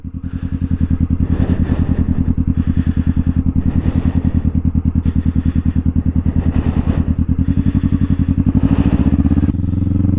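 Motorcycle engine idling and ticking over steadily while the rider holds the clutch and brakes and turns the bike around, a loud close chugging rhythm that shifts pitch slightly near the end.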